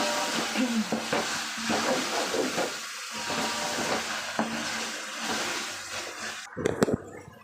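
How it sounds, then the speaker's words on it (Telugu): Tomato pieces and slit green chillies fry in a pan with biryani masala for chicken biryani, giving a continuous sizzle with scraping stirs and a few clattering knocks near the end. "కట్ చేసుకున్న టమాటా ముక్కలు కట్ చేసుకున్న నిలువుగా కట్ చేసుకున్న పచ్చిమిర్చి ఇవి కూడా యాడ్ చేసుకొని చక్కగా ఫ్రై చేసుకోవాలి"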